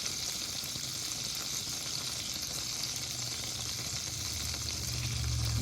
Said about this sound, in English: we're just going to throw in the rest of our ham